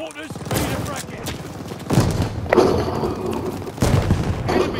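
Booming mortar blasts and scattered gunfire in a military shooter game, several heavy impacts landing over a steady background of combat noise, with voices talking through much of it.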